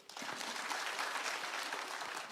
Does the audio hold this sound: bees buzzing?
no